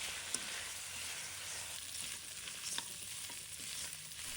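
Duck meat stir-fried with chili in a hot wok, a steady bright sizzle with scattered clicks and scrapes of a spatula tossing the pieces, close and even, no voices.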